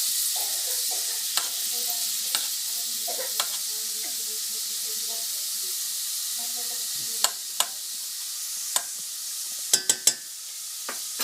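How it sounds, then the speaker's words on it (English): Butter melting in a pan for a macaroni and cheese casserole, giving a soft, steady sizzle and hiss with the scrape of stirring, plus a scattering of sharp little pops and clicks toward the end. "Let all this butter melt."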